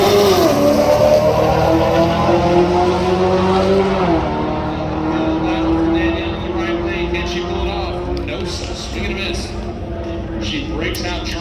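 Street cars launching side by side in a drag race at US131 Motorsports Park, a loud sustained engine roar with rising revs, while an announcer talks over it.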